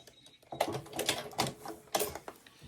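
Sewing machine stitching a diagonal seam through quilt fabric pieces for a beginner baby quilt, heard as short bursts of fast mechanical rattling that stop and restart, close and moderately loud.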